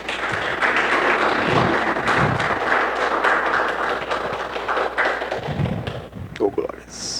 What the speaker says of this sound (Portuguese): Vamos dar para o Senhor uma linda salva de palmas